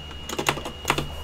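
Quick bursts of keystrokes on a computer keyboard as a Sims 4 cheat code is typed in, the clicks close and clear, falling in two short clusters with no talking.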